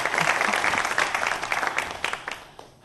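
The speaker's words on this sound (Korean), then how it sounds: "오늘 유쾌하면서도 멋진 강의 해주신 우리 박현호 대표님께 큰 박수 부탁드리겠습니다." Audience applause at the end of a lively startup lecture at a youth entrepreneurship event, a dense, steady clapping from a seated crowd that thins out and fades in the final half second.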